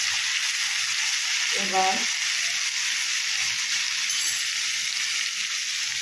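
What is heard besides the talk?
slit green chillies sizzling in hot oil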